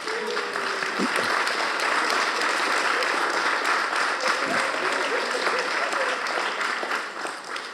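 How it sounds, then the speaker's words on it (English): A full audience at a community event in Ipswich applauds loudly and continuously, a thick, steady roar of clapping that eases slightly at the close, with a few voices faintly underneath. "We'll give them a round of applause"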